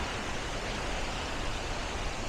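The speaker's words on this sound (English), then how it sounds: "On the way up, there is all these little tiny waterfalls." Small cascades along the trail at Kuang Si Waterfall near Luang Prabang give a constant, even rush of falling water, steady and hissing with no voices over it.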